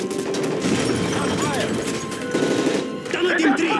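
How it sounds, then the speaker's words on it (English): Rapid bursts of gunfire crackle continuously over a dense, loud battle soundscape in Call of Duty: Modern Warfare 3, with shouting voices mixed in and swooping electronic effects near the end. "That's gunfire!"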